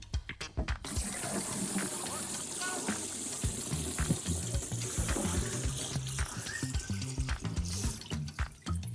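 Water runs and splashes steadily into a container for a demonstration of how much water makes up a 50-kilogram person, a continuous close pour with some faint clatter and movement around it.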